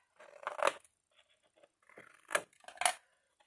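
Scissors snip the corners of a sheet of paper in a few quick, close cuts spread over a few seconds, with no talking.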